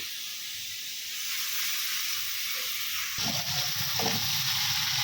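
Papaya curry sautéed in a pan: a continuous hissing sizzle that swells louder partway through as more is added and stirred, close and steady with no talk.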